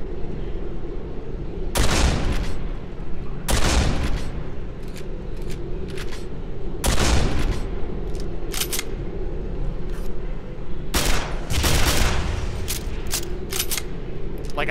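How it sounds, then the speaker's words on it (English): Enemy gunfire in Quake 4, loud sharp bursts recurring every couple of seconds, some single and some in quick clusters, over a steady low game hum. "the enemies will shoot at the barrels to kill you"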